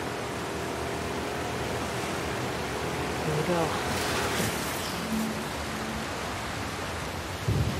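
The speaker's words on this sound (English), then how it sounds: "We're hitting a storm!" In The Last of Us Part 2, a storm at sea with crashing waves and driving rain on a boat makes a broad, constant wash of noise with a few louder swells. A person briefly talks over it.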